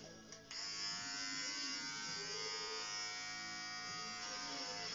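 An electric shaver buzzes steadily and close as it shaves a head, starting just after a brief click and running as a constant hum with small shifts in pitch as it moves over the scalp.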